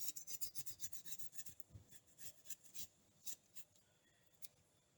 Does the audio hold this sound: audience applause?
no